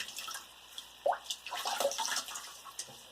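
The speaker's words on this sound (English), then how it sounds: "I've got cold water in my sink, which I usually do not do" Cold water runs into a bathroom sink, with soft splashing and dripping close by, a gentle steady trickle broken by a few brighter splashes as hands move through it.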